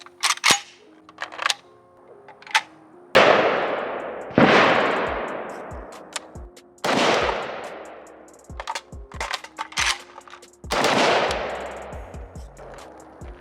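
Rapid bursts of fire from a PSA Spiker AK-type rifle, Type 56-style, fed from steel magazines: several loud, sharp shot strings with echoing decay, separated by brief pauses and small handling clicks.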